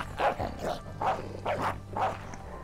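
A dog in the video game Fable III barks four times in an even, rhythmic series, each bark sharp and moderately close, with no talking over it.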